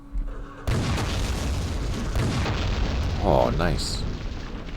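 Artillery explosions in the World War II video game Campaign Series East Front, a sudden heavy boom followed by sustained rumbling blasts, with a brief spoken remark over the noise.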